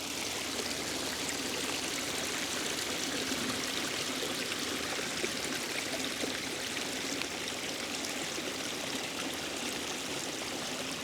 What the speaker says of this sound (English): Flowing water is a peaceful form of white noise that the mind can focus on